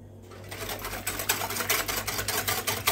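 An electric mixer whirs steadily through pancake batter with milk added, with a loud, close, continuous buzzing hum and rhythmic pulsing, no speech.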